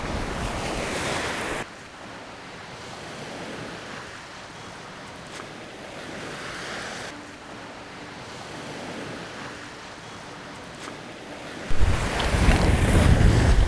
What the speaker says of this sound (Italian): godiamoci questo mare montante, estivo